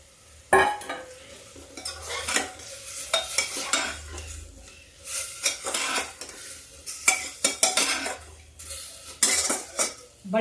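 Fried potatoes go into a cooking potato-and-pea curry, followed by bursts of metal spoon scraping and clanking against the pot, with softer sizzling in the gaps between the stirring strokes.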